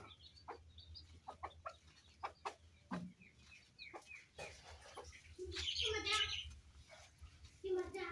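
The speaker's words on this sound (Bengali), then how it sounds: "এই যে ঘর থাকে এখানে মুরগি" Chickens cluck around their shed in a home yard, with short clucks scattered through and a louder burst of squawking near the middle, while a person talks over them.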